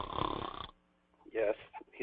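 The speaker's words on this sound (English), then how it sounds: "I hear somebody snoring" One snore, a rough, buzzing inhale, followed by a short pause and a brief bit of speech or a vocal sound.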